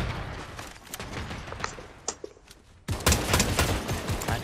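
Shotgun fire in a video game, a burst of sharp irregular blasts rattling close by, then a dense loud volley of rapid shots near the end.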